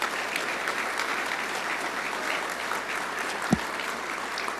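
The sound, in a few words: audience applause at awards dinner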